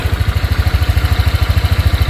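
A Honda Click 125 V3 scooter engine runs loud just after starting, a steady close idle with a fast, even pulsing throb and a rattly clatter on top, no voices.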